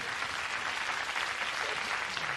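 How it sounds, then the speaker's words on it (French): A studio audience on a 1994 French-language TV show applauds in a steady wash of clapping, moderately loud and continuous for a couple of seconds with no voices over it. "On applaudit Francis Dreyfus"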